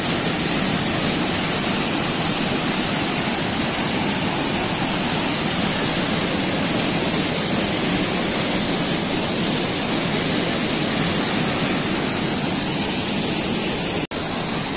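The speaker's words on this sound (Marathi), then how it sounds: "या ठिकाणी मोठा धबधबा आहे." A large waterfall at a fishing spot where people angle with hook and line roars in a steady, dense, unbroken rush that fills the whole stretch without pause.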